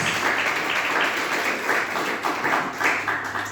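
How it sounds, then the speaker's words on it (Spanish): A church congregation applauding steadily, a dense wash of many hands clapping at once, sustained and fairly loud throughout with no voices standing out. "Yo creo que ustedes se merecen un aplauso de felicitación por eso"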